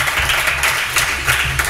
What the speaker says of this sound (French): on applaudit très fort pour l'encourager quand même